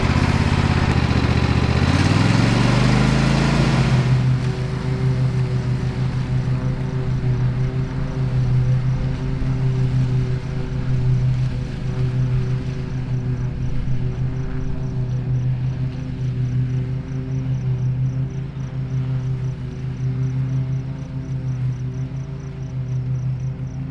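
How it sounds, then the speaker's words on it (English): A lawn mower cuts grass on a garden plot in spring. The engine rises quickly at the start, then settles into a loud, steady drone that runs unbroken, close by, with no talking. "I'm going to mow"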